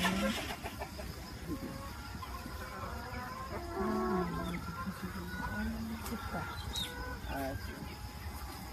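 White roosters and brown hens on a Korean egg farm cluck and call in a busy, continuous flock chorus, with someone speaking over the birds.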